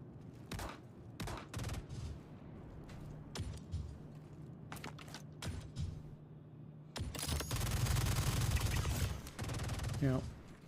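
Repeated gunshots from Star Citizen, at first scattered and spaced and then a dense sustained burst of automatic fire near the end, loud and close with some voice underneath.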